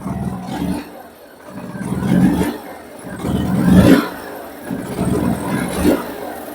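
A Hero motorcycle engine with a faulty engine oil temperature sensor revs in four rising bursts, each throttle blip swelling and dropping back to a rough idle between them.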